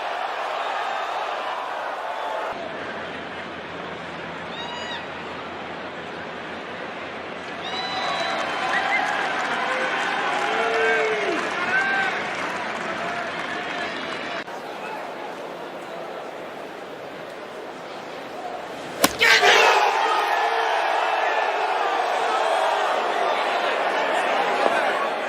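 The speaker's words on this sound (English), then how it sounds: "Listen to that crowd." A golf gallery at THE PLAYERS roars and applauds after Scottie Scheffler's shot lands near the flagstick, a distant swelling crowd with chatter beneath commentators' voices, rising sharply again later.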